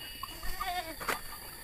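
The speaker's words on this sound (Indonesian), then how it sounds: "Ada kambing," Goats bleat behind a house in a remote village, several short wavering calls at moderate distance over a quiet rural background.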